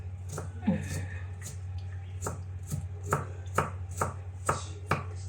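Knife mincing ingredients on a cutting board for steamed fish, a run of sharp, evenly spaced chops that grow crisper toward the end over a steady low hum.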